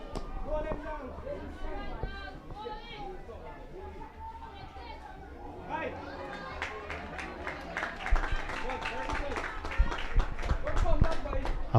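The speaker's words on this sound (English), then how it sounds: "Applause for a dot ball." Applause from spectators at an under-13 schools T10 tapeball cricket match: a voice talks first, then crowd clapping rises with children chattering and calling nearby, growing louder toward the end.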